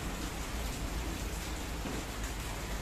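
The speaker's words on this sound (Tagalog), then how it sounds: "Umuulan pa" Rain falls steadily as a dense, even hiss of drops that never lets up, with no one talking.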